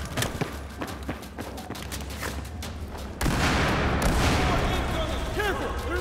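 Battlefield 4 game gunfire: a run of sharp, close shots in rapid succession, then a louder dense burst of firing and impacts that fills the second half.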